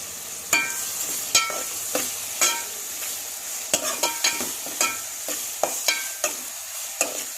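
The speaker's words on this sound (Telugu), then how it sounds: "రొయ్యలు ఒక 5 మినిట్స్ అట్లా నూనెలో మంచిగా వేగనివ్వండి" Prawns frying in oil for a gongura prawn curry, with a soft background sizzle broken by a dozen or so sharp, irregular spatula scrapes and clacks against the pan.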